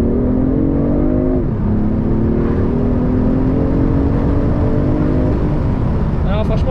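Loud in-cabin engine drone of a BMW i8 hybrid sports car pulling hard, pitch rising, dipping at a shift, then rising steadily again, with a short voice heard at the very end.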